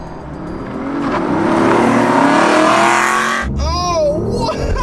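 A BMW i8 and other cars, a V8 Aston Martin Vantage, a C8 Corvette and a Tesla, launch hard off the line in a drag race, a loud, rising roar of engines and tires that swells and then cuts as one car passes close.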